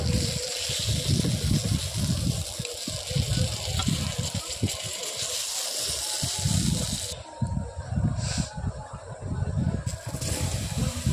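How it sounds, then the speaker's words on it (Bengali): Fish frying in hot oil with salt and turmeric for a potol and tomato chorchori makes a loud, steady hiss and sizzle that runs unbroken from start to finish. "মাছটা প্রথমে একটু ভেজে নিচ্ছি, নুন হলুদ দিয়ে মাছটা ভেজে নিব প্রথমে।"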